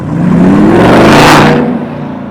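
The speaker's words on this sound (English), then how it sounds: "Never underestimate a V8 powered R8. They sound amazing." A V8-powered Audi R8 at a New Year's car meet in Japan revs hard and close, a loud rising roar that peaks and then falls away as the car passes.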